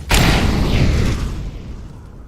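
Incendiary grenade going off in Counter-Strike: Global Offensive: a sudden loud burst that trails into a roaring, fading whoosh over about two seconds.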